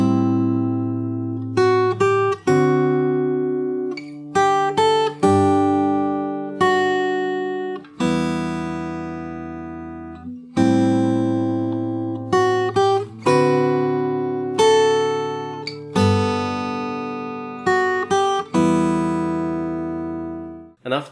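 Fingerstyle guitar plays the intro of a song, ringing chords and plucked notes in unhurried phrases that sustain and decay, close and clear with no talking.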